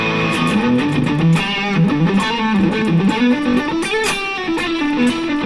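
High-gain distorted electric guitar played through a patch-cable noise gate in an effects loop, a continuous melodic line of picked notes, loud and close with no talking.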